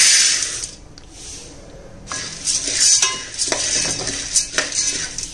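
Almonds dry-roasting in a pan give a steady, close rattle and scrape with faint sizzle, stirred the whole time, with a few sharper clinks of utensil on metal standing out.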